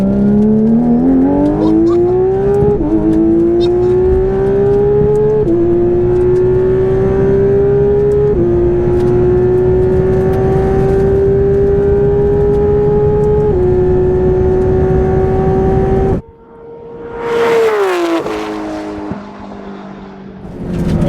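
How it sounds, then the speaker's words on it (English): A twin turbo Porsche GT3 RS accelerates hard through the gears, a loud close engine tone rising in pitch, with upshifts at several points before a brief drop and recovery near the end. "Alright, so let's get to second gear."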